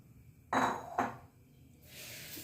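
Coriander seeds are dropped into an aluminium uruli pot, making two sharp metallic clatters close together, followed by a soft rustle of seeds settling.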